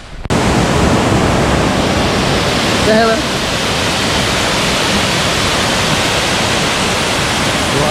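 A waterfall on a Bali waterfalls tour gives a loud, steady roar of rushing water that fills the whole clip, with a person speaking briefly over it.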